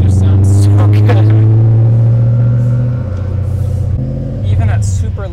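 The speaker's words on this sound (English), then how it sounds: "Right away, you can just hear that V8 rumble." A BMW E39 M5's V8 idles at low revs while warming up, giving a loud, steady deep rumble that dips slightly midway, with someone talking over it.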